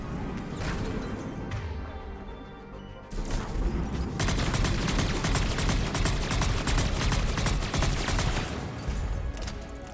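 Turret gunfire in the Mass Effect 3 video game, a dense, steady clatter of rapid shots with crashes and booms, growing louder after a few seconds and continuing throughout.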